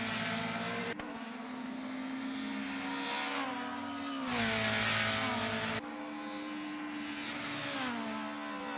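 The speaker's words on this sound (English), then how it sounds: "Oh, we have Hannah Fish letting the cars by." BTCC touring cars race around Thruxton, their engines whining and revving as they pass at speed, with the pitch sweeping as each car goes by and distant track noise steady throughout.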